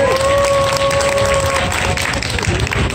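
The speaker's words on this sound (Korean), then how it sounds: "다시 한번 뜨거운 박수 부탁드립니다." Crowd applause at an outdoor protest rally of teachers and parents in front of a labor office, loud sustained clapping with a steady tone ringing over it, close and continuous.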